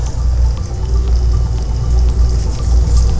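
Water is poured back into a home aquarium from the edge of the tank during coral fragmenting, a steady close pouring and trickling sound with a low background hum and no voices.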